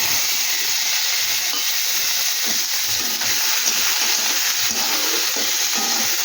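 Mango pieces frying in hot oil with mustard seeds give a steady, loud sizzling hiss throughout, with faint pops and crackles and no talking.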